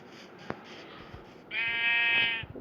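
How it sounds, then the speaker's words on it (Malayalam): A sheep in the Minecraft video game gives a single loud, wavering bleat after a stretch of quiet in-game background sound, close and clear with no speech over it. "ഒരു ചെമ്മരിയാട് എടുക്കണം"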